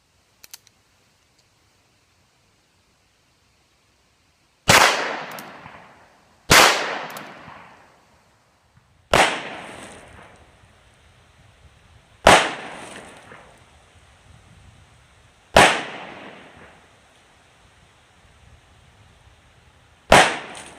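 Six loud, sharp shots from a Ruger Vaquero revolver loaded with .357 Magnum rounds, fired singly at slow, uneven intervals, each crack followed by a short ringing decay into quiet.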